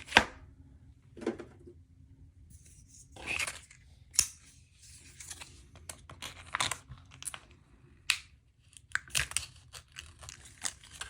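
Scissors or a blade cut into plastic packaging holding an Olight copper flashlight, producing sparse crisp snips, crinkles and tearing crackles at close range, separated by quiet gaps.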